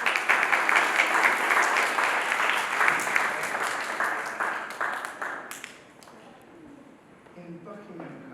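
A school prize day audience of pupils and parents applauds a house award winner, with loud sustained clapping that fades out after about six seconds, leaving quieter room noise.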